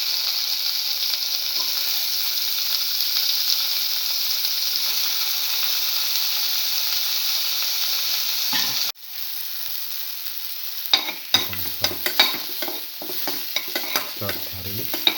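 Tomatoes sizzle loudly in a hot pan for an egg and coconut stir fry, a constant frying hiss joined partway through by clattering spoon scrapes as they are stirred.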